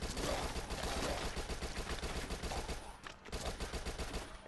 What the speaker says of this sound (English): Oh, I'm out of SMG bullets.